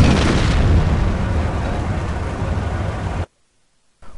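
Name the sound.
explosion in the video game Company of Heroes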